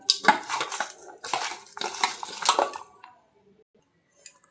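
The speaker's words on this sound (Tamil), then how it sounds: "கொஞ்சம் பூண்டு தட்டி போட்டுக்கலாம்." Garlic being crushed in a kitchen while preparing a bitter gourd dish, heard as a run of sharp, clattering pounding bursts for about three seconds, then near silence with a faint click at the end.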